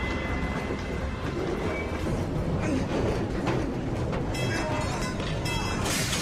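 A train rolls along the rails with a steady, loud rumble. Sharp metallic squeals and clatter break in near the end, with no voices.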